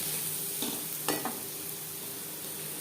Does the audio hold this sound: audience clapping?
no